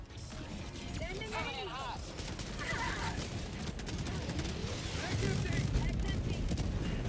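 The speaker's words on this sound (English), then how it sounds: "I'm gonna throw a cluster bomb in there and pray." Cluster bomb blasts and scattered gunfire in a sci-fi shooter game set during a fight for a space station against automatons, a dense, steady rumble of explosions and shots under voices talking throughout.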